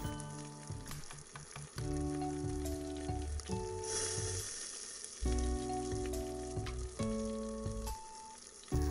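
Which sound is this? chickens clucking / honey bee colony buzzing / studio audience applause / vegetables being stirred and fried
vegetables being stirred and fried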